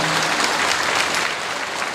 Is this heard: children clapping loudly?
yes